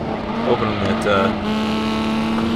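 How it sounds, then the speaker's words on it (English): Carbureted engine of a Lamborghini Miura P400SV racing in Assetto Corsa, a steady droning note with brief tire squeal, under continuous close talk. "It just sounds like an older car."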